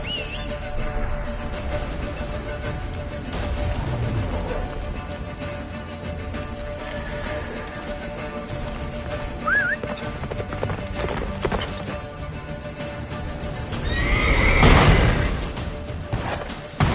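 Roach, the horse in Witcher 3, gallops with a steady stream of hoofbeats amid battle noise and a tense game score, gives a loud whinny near the end, and a voice speaks over the action.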